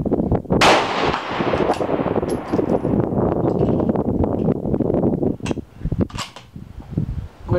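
A .223 Remington rifle fires 55 grain PMC ammunition at a 300-yard range, giving loud, sharp reports up close, each with a long rolling echo, followed by metallic clinks.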